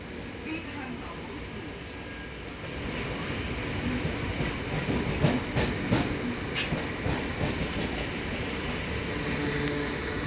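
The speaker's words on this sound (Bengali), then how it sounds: "ট্রেনের স্পিড কিন্তু ক্রমশ বেড়ে যাচ্ছে" A Kolkata train picks up speed, wheels rattling and clacking on the rails in a steady rumble that builds and grows busier, with a voice heard over it.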